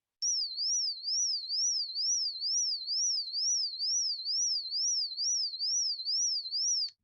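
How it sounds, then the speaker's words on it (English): A clean, high electronic tone sweeps smoothly between 4 and 6 kHz in a fast, regular wobble, steady and continuous for several seconds. "I chose a 4 to 6 kilohertz oscillating frequency as my sound signal."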